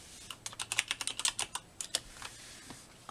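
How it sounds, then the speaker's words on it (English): Someone types a name on a computer keyboard, a quick run of crisp, close keystrokes clustered into a short burst, then a few final taps. "I'm going to type in his name."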